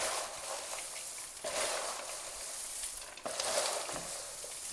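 A traditional South Indian Diwali mixture snack being stirred and tossed, giving a steady, dense, close rustling crunch that swells in two or three strokes, with no voices.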